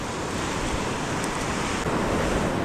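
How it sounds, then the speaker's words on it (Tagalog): Large ocean waves break and wash in a loud, continuous roar of surf, with wind noise on the microphone along a shore in Palawan. "Lalaking alon."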